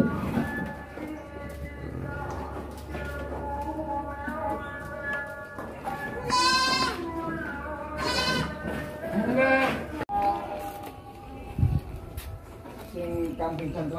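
Peranakan Etawa dairy goats on a goat farm bleat several times in loud, wavering calls that stand out over steady background noise, with people talking nearby.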